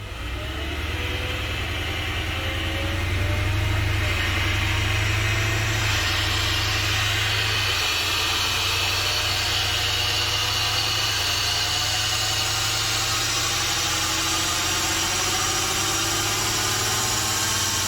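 A Mercedes-AMG Performance Package drivetrain with a failed limited-slip differential drones loudly with a deep, steady rumble and a rising, grinding whine layered over it, sustained throughout without any talking.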